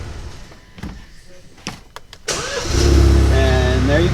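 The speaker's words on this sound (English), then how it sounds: "Shut the car off." A 2.0L Alfa Romeo Giulia engine being shut off after a few clicks and knocks, followed by a steady running hum with whining tones, loud and close.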